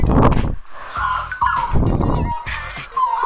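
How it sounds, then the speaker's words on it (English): A dog barks repeatedly up close, loud yips and woofs coming in quick bursts with short gaps between them. "Stop barking!"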